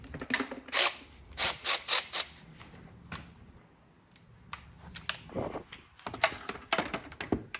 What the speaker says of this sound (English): What you can do is get this fancy ratchet back out.